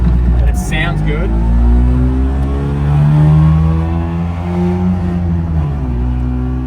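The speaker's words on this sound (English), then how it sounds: "Daihatsu Fellow, which is a twin-cylinder, two-stroke, 360cc." A 1960s Daihatsu Fellow Kei car with a 360cc twin-cylinder two-stroke engine is driven, its buzzy engine note rising and falling with the throttle and droning steadily throughout, close and loud, with some wind or road noise.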